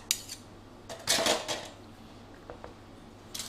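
Two dessert spoons clink and scrape against a bowl while vegan cupcake batter is spooned into cupcake cases, with a cluster of brighter metallic taps in the middle and a few lighter clicks after.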